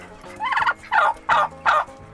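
A pet turkey on a homestead gobbles in four loud, close, rapid warbling bursts with short pauses between them, with no voices.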